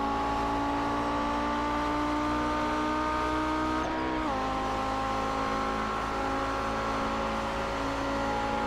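Touring race cars lap the Daytona road course during qualifying, a steady close engine drone with rising pitch through the straight and a brief dip near the middle as a car shifts or brakes, no talk.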